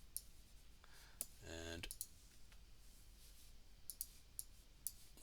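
Mouse clicks while editing an image in Photoshop, several sharp, isolated clicks scattered at irregular intervals, close and fairly quiet, with a brief spoken word.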